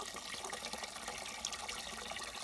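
Steady gush of groundwater pouring from an old, still-working village fountain in a remote Bulgarian area, a continuous bright splashing flow heard up close with no talking.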